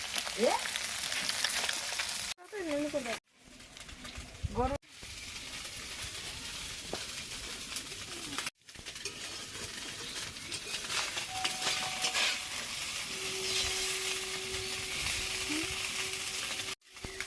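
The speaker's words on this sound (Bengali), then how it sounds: "দেখুন আমার প্রায় মাছটা ভাজা হয়ে গেছে" Small fish frying in mustard oil in a pan, a steady close sizzle and crackle running throughout with a few brief breaks and light stirring clinks.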